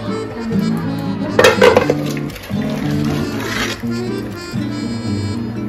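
Metal pots and dishes clinking and clattering in a Bengali home kitchen as cooked vegetables come off the stove, a few sharp clinks close by amid a steady background hum and low voices.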